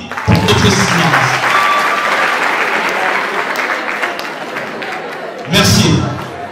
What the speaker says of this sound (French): Est-ce que vous pouvez applaudir pour votre silence?